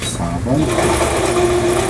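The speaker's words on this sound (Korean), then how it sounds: "오버록 스티치" Overlock sewing machine with a plastic body and plastic crank parts, stitching in a fast, steady whir close to the microphone while a person talks over it.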